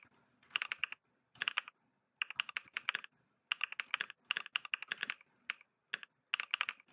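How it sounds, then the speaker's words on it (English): Steady typing on a computer keyboard during a typing-speed test, crisp close key clicks in quick bursts separated by short pauses. "now let's practice typing in monkeytype.com."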